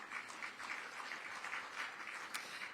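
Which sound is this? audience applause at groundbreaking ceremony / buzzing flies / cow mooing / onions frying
audience applause at groundbreaking ceremony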